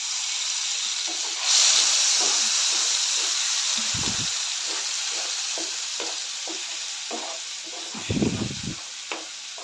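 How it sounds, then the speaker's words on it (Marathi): A tomato and peanut gravy fries in hot oil for a potato bhaji, giving a steady close hiss and sizzle with occasional scrapes of a spoon stirring the pan. "आपण टोमॅटो शेंगदाणेची ग्रेव्ही करून घेतलेले ते घालते ग्रेव्हीला तेल कुठेपर्यंत चांगलं परतून घ्यायचं आहे"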